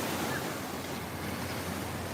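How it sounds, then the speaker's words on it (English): Ocean waves wash onto the beach at Fort Lauderdale, Florida, as a steady, broadband surf roar with some wind across the microphone, continuous and fairly distant, with no voices. "The waves are getting better"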